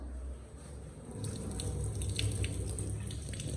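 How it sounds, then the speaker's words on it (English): Water runs from a kitchen tap into a sink in an empty house, a steady splashing hiss that grows fuller after a moment and continues without talk. "They have running water."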